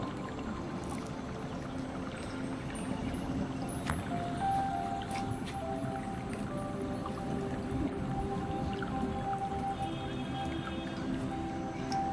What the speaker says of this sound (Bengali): দিয়ে দিব আধা কাপ টক দই তো এখন আমরা ভালোভাবে মিক্স করে নেব